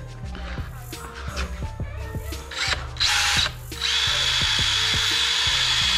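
A DeWalt power drill runs with a backing pad fitted while preparing an engine for a 2015 Subaru WRX FA20DIT build, spinning steadily with a rhythmic ticking and revving louder near the end, close and without talk.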